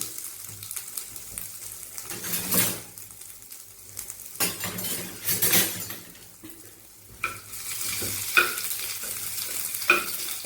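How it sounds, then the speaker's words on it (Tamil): Mustard seeds sputtering in hot coconut oil in a pan, a steady sizzling hiss with scattered crackles and pops and a few stirring scrapes, close up. "சட்டி காஞ்சிச்சு கடுகை போட்டுவோம் கடுகு நல்லா பொரிஞ்சோடனே"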